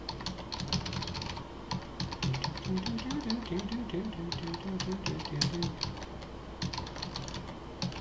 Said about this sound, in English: I wonder how well you can pick up my keyboard clacks.